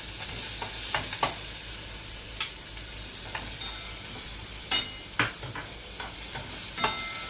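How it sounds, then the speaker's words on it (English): Chopped onions frying with kalonji seeds in oil for masoor dal tadka, a steady soft sizzle broken by scattered clicks and scrapes of a spoon stirring in the pan, with no talking. "Adding chopped onions to this."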